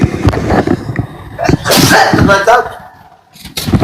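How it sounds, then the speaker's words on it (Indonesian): A single loud, close sneeze bursts out mid-sermon from a male preacher, followed by breathy noise and a short pause before speech resumes. "Ternyata bersin dulu"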